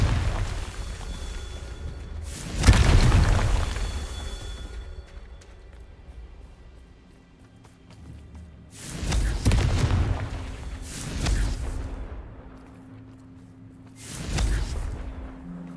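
Confringo blasting spells burst in a Harry Potter video game, four separate heavy booms spread across the stretch, each swelling then fading into a low rumble over quiet ambient game sound.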